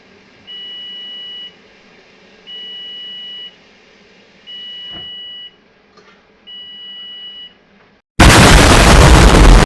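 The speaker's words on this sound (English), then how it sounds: "our timer's about ready to go off" A kitchen timer beeps while sourdough bread is being made: four evenly spaced, steady one-second tones, close and clear, followed by a sudden loud burst of noise at the end.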